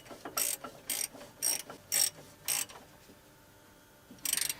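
A ratchet clicks in quick bursts, six rapid sets with brief pauses between, as brake caliper pins are tightened on a Ford Fiesta Mk6, close and clear.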